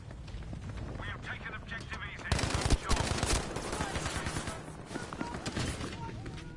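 Trench carbine gunfire in Battlefield V, shots cracking out amid a busy wash of battle noise, with a dense burst of firing from the middle onward and a voice talking over it.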